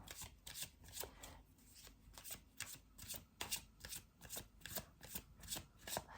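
Tarot cards being shuffled by hand in a steady, rhythmic run of riffling snaps, close and fairly soft, continuing without pause and with no talk over it.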